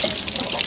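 Water gushes and splashes as it is flushed out of a caravan hot water service, a short, fairly loud burst of running liquid heard up close.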